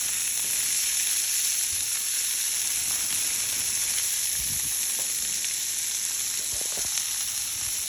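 Sausages and peppers sizzle steadily in plenty of butter on a Blackstone griddle, a close, continuous frying hiss with occasional soft pops and low knocks, no voices.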